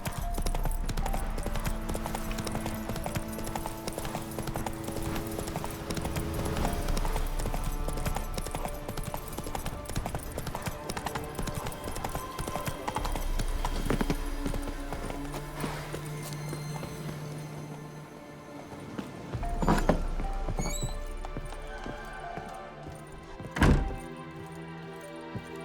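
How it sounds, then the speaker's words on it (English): A horse gallops in The Witcher 3, with steady rhythmic hoof clip-clops and thuds over a long stretch, a whinny and heavier thunks near the end, and game music beneath. "Run, Roach"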